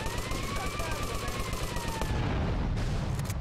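In the video game Grand Theft Auto: Liberty City Stories, gunfire rattles in a dense, rapid stream of shots, loud and continuous, layered over other game sounds and a rising whine.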